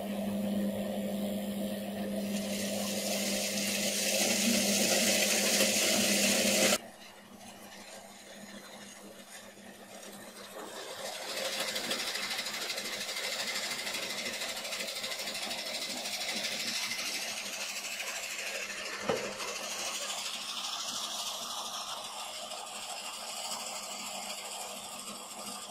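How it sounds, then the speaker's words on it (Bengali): A nut shelling machine built by BK Innovation runs continuously with a steady mechanical whir and rattle, loud and close, its tone shifting partway through with no talk over it. "বাদামের খোসা ছাড়াতে হলে এই মেশিনটি হচ্ছে বিকে ইনোভেশনের তৈরি করা মেশিন"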